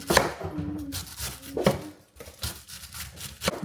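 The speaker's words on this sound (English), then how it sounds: "We're just gonna chop these mushrooms up." Mushrooms and cabbage are chopped with a knife on a cutting board, a close series of sharp, irregular knife strikes with a short pause midway.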